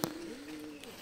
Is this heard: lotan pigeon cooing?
yes